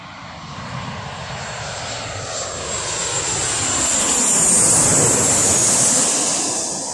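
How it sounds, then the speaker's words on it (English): A Jet2 Boeing 737 jet approaches with a broad, rushing engine roar that swells louder toward the middle and then eases slightly, heard outdoors against a steady wash of sea surf. "And looks like we've also got another incoming 737."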